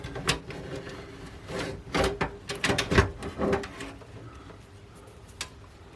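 An old SATA hard drive is worked loose from a computer after its screws are removed, giving a run of close, sharp plastic and metal clicks and scrapes that fade into quiet.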